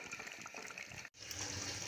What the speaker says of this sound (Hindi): अब मैं पानी डाल रही हूँ